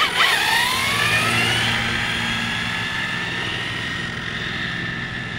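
An ARRMA Senton 6S V3 RC truck geared with a 16-tooth pinion on a 4S battery screams past on a speed run, a loud high-pitched electric motor whine that spikes and then holds a steady, slowly receding drone.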